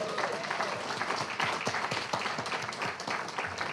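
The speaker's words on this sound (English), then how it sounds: "a big round of applause to them" Applause from an audience in Tucson welcoming poets Matthew Olzmann and Vievee Francis at a reading, fairly distant, moderately quiet clapping with distinct individual claps popping out over the steady patter.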